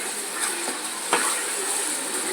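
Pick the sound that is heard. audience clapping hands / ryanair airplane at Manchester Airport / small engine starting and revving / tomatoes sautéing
tomatoes sautéing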